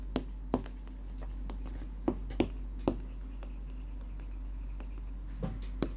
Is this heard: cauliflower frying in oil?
no